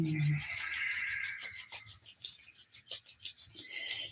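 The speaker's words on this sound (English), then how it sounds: "start to rub the palms" Palms rubbing briskly together, a soft rasping friction that starts smooth and steady and then breaks into quick rhythmic strokes, close and quiet with no talk.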